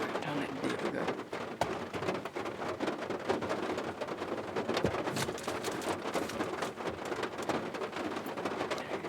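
Heavy rain drums steadily on a campsite during a walk-about camp-out, a dense continuous hiss with scattered sharper drops, loud and close, with faint talk underneath.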